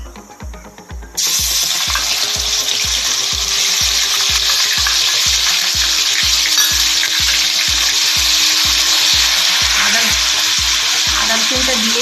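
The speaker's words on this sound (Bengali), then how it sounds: "দিয়ে প্রথমে আদা রসুন বাটাটা দিয়ে দেব।" Ginger garlic paste sizzles loudly and steadily in leftover fish-frying oil with nigella seeds, a sharp hiss that flares up after a quiet start and continues to the end with a faint low rhythmic hum beneath.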